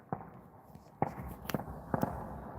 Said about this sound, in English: there was a volley of fireworks just went off